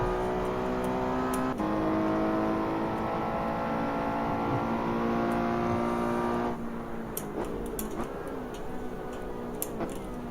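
A Ferrari racing car engine drones through a racing video game in the Ferrari Challenge series, a sustained buzzing whine that shifts pitch as gears change, with sharp ticks and clicks over it.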